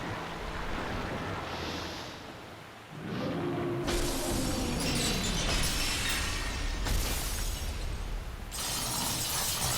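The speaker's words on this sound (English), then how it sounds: "That's an explosion. That's when you run." A loud, broad blast erupts in Dark Souls and then keeps roaring, a rumbling crash with shattering debris that persists for several seconds at close range. A brief lull comes just before it starts.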